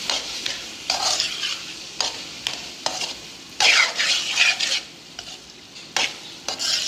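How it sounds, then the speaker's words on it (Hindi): Chickpeas being stirred into fried masala in a pan, a close hissing sizzle swelling and fading with each pass of the spoon, in bursts of scraping and clinking against the pan. "अब मैं इसके अंदर अपने चने डालूँगी। अब हम चने मिक्स करेंगे अच्छे तरीके से।"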